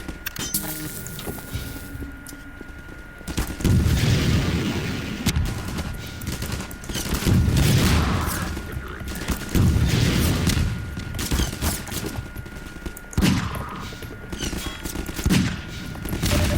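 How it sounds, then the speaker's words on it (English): Gunfire and grenade blasts from the Half-Life 2 video game, a dense run of loud bursts and booming hits in repeated waves, with shots clustering around several heavy surges. "Our grenades bumped in midair."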